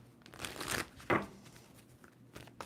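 A tarot deck is shuffled in short, quiet bursts of card riffling and crinkly paper rustling, with one sharper flick partway through and brief pauses between.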